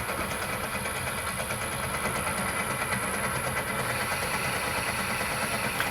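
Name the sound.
Myford lathe machining a head into a hexagon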